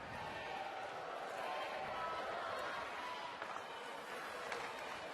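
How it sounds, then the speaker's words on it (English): A hockey crowd inside Prudential Center at a women's professional game produces a steady, distant wash of murmuring and cheering that holds at an even level throughout. "Crowd inside Prudential Center trying to rally their team."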